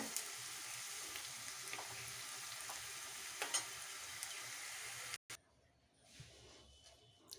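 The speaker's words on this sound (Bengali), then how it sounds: "উচ্ছেটাকে ভেজে নিচ্ছি" Bitter gourd slices, slightly overripe, frying in a pan in a home kitchen, a soft steady sizzle with a few light clicks, cut off abruptly before quieter hiss returns.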